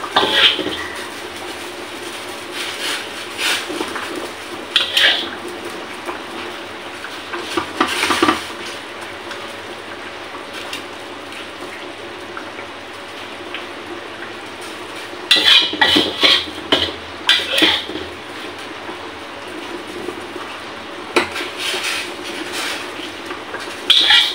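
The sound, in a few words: pots and pans clattering while transferring food into a pot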